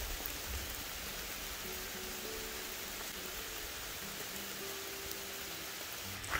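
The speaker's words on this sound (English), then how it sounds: "Raining a lot." Heavy rain falling steadily on a hiking trail in the woods, a dense, even hiss of drops with no break and no voices.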